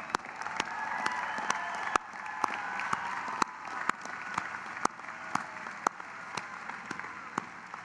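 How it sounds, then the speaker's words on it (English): Applause from a commencement crowd for graduates, fairly distant and soft, with sharp isolated claps and thumps standing out above a continuous low patter of clapping. "Let's give all our graduates, our excellent graduates, a big round of applause."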